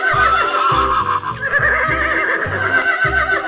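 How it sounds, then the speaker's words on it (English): A horse neighs in a cartoonish way over a loud, bouncy backing beat, its whinny running through most of the short stretch with rhythmic thumps underneath. "Horse."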